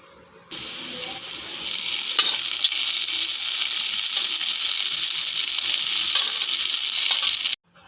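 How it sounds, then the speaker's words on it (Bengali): Diced potatoes and soaked sago pearls sizzle steadily in a hot pan, a loud, even frying hiss with faint scraping stirs throughout, starting and stopping abruptly with no talk. "আলুটা ভাজা ভাজা হয়ে গেলে ভিজিয়ে রাখা সাবুদানাটা দিয়ে দেব।"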